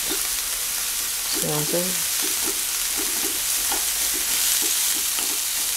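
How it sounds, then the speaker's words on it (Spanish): Celery and onion sauté together in a pan, giving a steady, soft sizzle with brief stirring scrapes and a short spoken word over it. "descolocamos el apio y lo dejamos con la cebolla para que se sofríen los dos al mismo tiempo"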